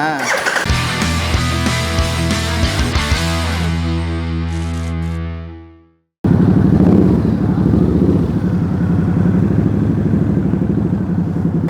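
A Harley-Davidson Pan America adventure motorcycle starts for the first time at a dealer service centre in Thailand; tonal music fades out, then a loud, steady engine roar begins abruptly and runs continuously.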